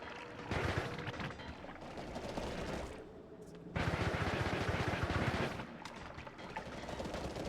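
Explosions in the video game Noita: two long crackling, roaring blasts separated by a brief lull, dense and rumbling with a rapid popping texture like gunfire, fairly loud and without speech.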